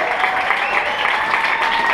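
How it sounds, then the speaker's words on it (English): A crowd at a magician's comedy set gives the host a big round of applause, dense and sustained throughout, with a voice faintly under it. "Can we have a big round of applause for Lars for hosting tonight?"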